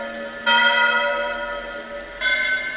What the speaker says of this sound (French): Je me souviendrai toujours du glas de Castellania.